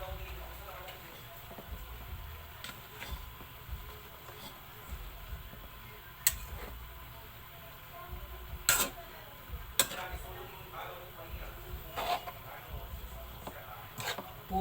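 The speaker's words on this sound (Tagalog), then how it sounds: "Haluin po natin." Banana heart, string beans and saluyot being stirred in a pan, with soft scraping and scattered sharp utensil clicks against the pan over a quiet background.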